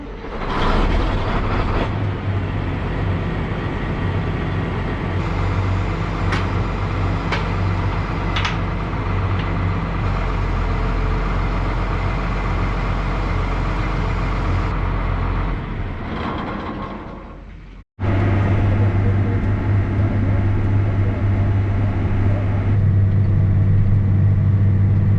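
A tractor pulling a disk across a field for fertilized spring ground preparation, its engine a steady loud drone throughout with a brief cut near the end before resuming.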